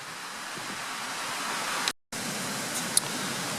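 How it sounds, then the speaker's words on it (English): Wind blows steadily across a rainy campsite where a Dutch army tent stands, making a broad, faint rushing hiss with a brief dropout midway and no talk. "Oh, it's windy."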